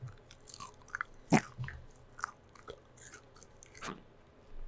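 Someone bites and chews a salted scorpion, with quiet, close crunches and crackles in an irregular series, one sharper bite standing out, and no talking.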